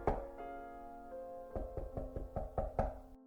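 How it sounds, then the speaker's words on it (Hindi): Several sharp knocks on a door, close and fairly loud, in a quick uneven run after a soft background musical drone, with no one talking. "दरवाजे पर दस्तक हुई।"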